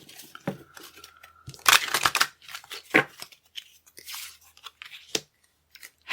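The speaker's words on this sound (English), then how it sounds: "Trying to get a really good shuffle here." Tarot cards shuffled by hand for a reading, giving close, crisp riffling and papery flicks in uneven bursts with brief pauses, with no one talking.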